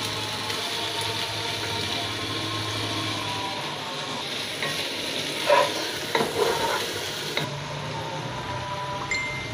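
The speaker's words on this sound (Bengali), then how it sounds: "এখন দিয়ে দিব টমেটো কুচি।" Chopped tomato fries in a pan, a steady close sizzle running throughout, with a few spoon scrapes and stirring clatters in the later part for homemade vegetable egg noodles.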